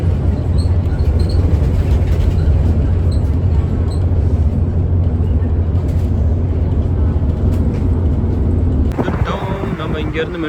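Steady low rumble of a Barcelona metro train in motion, a continuous loud drone of wheels and carriage noise that shifts near the end as the train changes pace, with faint voices underneath.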